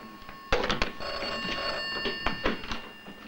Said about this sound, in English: Emergency phone is ringing.